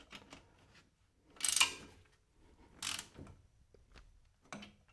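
Ratchet wrench tightening a nut on a bolt of a 2-inch Subaru Forester lift kit, heard as a few short bursts of rapid metallic clicking, close and fairly quiet, with pauses between strokes.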